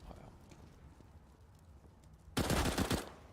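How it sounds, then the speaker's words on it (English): A Desert Eagle pistol shot in the game Counter-Strike: Global Offensive, a sudden loud crack followed by a brief burst of sharp impacts, standing out over quiet background ambience. "Kirishima with a deagle shot onto Apex, stealing the kill from Happy"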